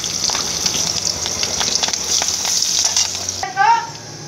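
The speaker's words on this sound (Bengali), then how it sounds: "ওই তেলে এবার মাছটা রান্না করে ফেলবো।" Fish sizzles loudly and steadily in hot oil with black cumin seeds, green chillies and a little onion, crackling up close before the frying hiss drops away near the end.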